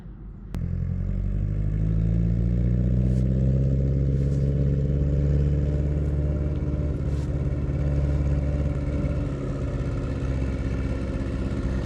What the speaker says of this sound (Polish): To Mariusz jedzie z następną kosiarką.